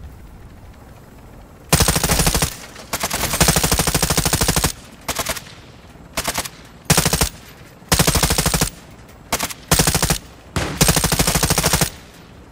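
Bursts of automatic machine gun fire in the video game DMZ, several loud sustained volleys of rapid shots separated by short pauses, with no talking.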